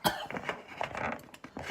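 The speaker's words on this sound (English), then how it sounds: "Pardon my coughing." A person coughs a few times in a kitchen while cooking salmon in a buttered pan, with short rough bursts close up and faint clinks of dishes and cutlery around them.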